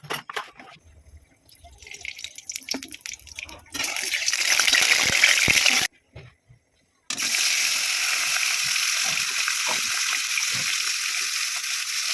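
Salted fish pieces, including the head, fry in a kadai with a loud, hissing sizzle that starts after some quiet kitchen clatter, cuts out briefly, then resumes as a steady crackle.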